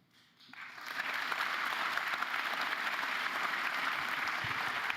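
Campaign rally crowd applauding, the clapping swelling in after a brief quiet start and holding steady as a dense, even wash of applause from many hands for several seconds.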